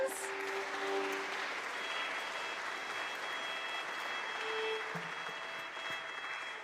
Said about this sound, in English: Can we have another round of applause for our friends?